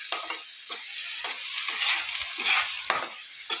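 Bottle gourd chutney being stirred and mixed in a pan, with a steady soft sizzle of frying under repeated scraping strokes of the spoon, close and continuous without talk.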